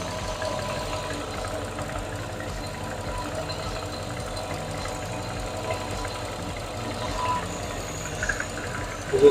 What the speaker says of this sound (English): Yeah, it sounds like an exhaust leak,